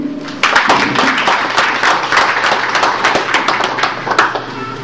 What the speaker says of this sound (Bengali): আমরা আমাদের স্টেজে যারা আছেন তাদের মূল্যবান সময় আমাদেরকে দেওয়ার জন্য আমরা একটা করতালি দিই